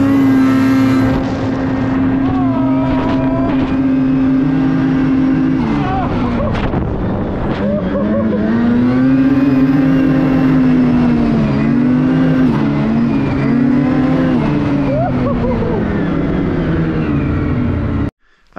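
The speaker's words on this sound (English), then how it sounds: "Andy, we're gonna have a race." 2024 Ski-Doo Turbo snowmobiles racing on snow: a loud, close, continuous engine whine revs up and down in pitch, with wind buffeting throughout and faint voices underneath.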